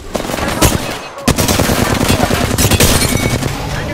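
Rapid automatic gunfire in the video game Apex Legends, loud close bursts of rattling shots with a brief pause, then dense firing continuing under faint game voice lines.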